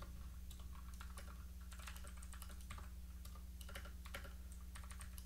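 Fingers typing a git command on a computer keyboard: bursts of quick, light key clicks in an uneven rhythm, close and quiet over a steady low electrical hum.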